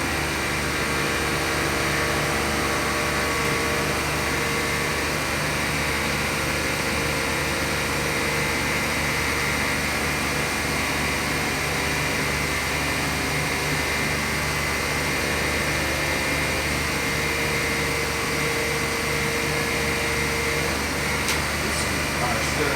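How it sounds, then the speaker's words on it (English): Power steering pump of a 2013 Chrysler 200 picked up through a contact pulse sensor near the alternator: a loud, continuous mechanical hum and whine that stays unchanged throughout, with no distinct pauses. "This is the power steering pump."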